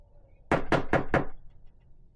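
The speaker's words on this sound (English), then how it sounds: "Let me knock on the door." Four quick, firm knocks on a door, evenly spaced and close by, standing out clearly against a quiet room with no talk.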